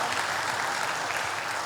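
Applause from a church congregation honoring Jesus, a brief steady wash of clapping held at an even level throughout.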